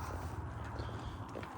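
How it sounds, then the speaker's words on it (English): Young green horse ridden in a hackamore walks with soft, muffled hoof clip-clops in a steady rhythm, close but faint under low background noise. "It's a pretty green horse here."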